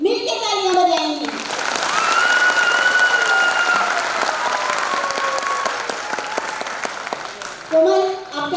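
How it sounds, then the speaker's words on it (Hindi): Two teams clapping together at a 75th Corps Day diamond jubilee celebration, a loud sustained wash of applause from a large crowd with cheers and whistles on top, bracketed by brief voices at the start and end. "अब दोनों टीम मिलकर तालियां बजाएंगी"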